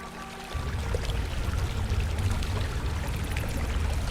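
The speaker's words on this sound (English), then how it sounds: "What a beautiful waterfall." An underground waterfall in a Star Wars role-play video game rushes in after a brief quiet moment, a steady broad wash of pouring water that stays loud and continuous.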